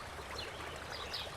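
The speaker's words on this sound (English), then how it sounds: "Pour water here." Water trickles and pours steadily in a soft, continuous stream, close by and fairly quiet, likely rinsing a paintbrush during a snowy-sky painting.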